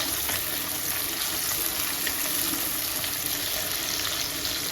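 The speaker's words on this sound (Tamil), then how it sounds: "நல்லா வெங்காயம் வந்து நல்லா வதங்கிட்டு இருக்கு" Small onions frying in oil for a fish curry, a steady, even sizzle at moderate loudness with no talking.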